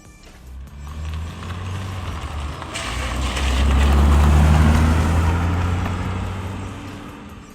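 A Porsche Boxster 987 S stuck in mud revs hard, its engine roar building to a loud, sustained peak mid-way and then easing off, with a rushing wash that suggests wheelspin.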